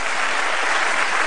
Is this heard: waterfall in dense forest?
no